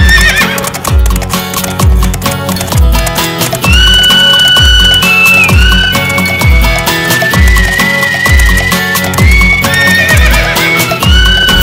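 Horse from a Tamil film sequence, heard as repeated whinnies over galloping clip-clop hooves, all loud and close, with a busy music score running underneath throughout.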